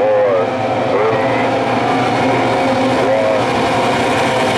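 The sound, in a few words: race engines revving before the start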